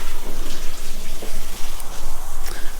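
Water running from a tap during a small dog's bath, a steady loud splashing hiss close to the microphone, continuous throughout.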